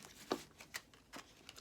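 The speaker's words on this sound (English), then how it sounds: "Kind of rough shuffle." A deck of tarot cards is shuffled roughly by hand in a few quick, separate riffling bursts, close up and fairly quiet.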